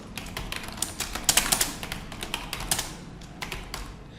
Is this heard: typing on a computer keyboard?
yes